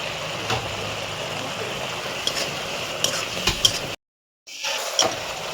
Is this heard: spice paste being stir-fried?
yes